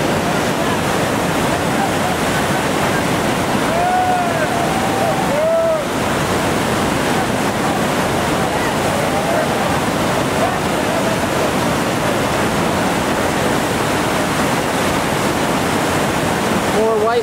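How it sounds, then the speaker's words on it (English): Whitewater roars continuously at Sweets Falls on the Gauley River at 4700 cfs, loud and close as rafters drop through the rapid, with faint shouts briefly rising above the rush. "More whitewater rafters dropping in here. Sweet Falls Rapid."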